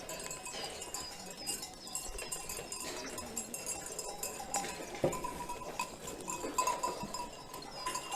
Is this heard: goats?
yes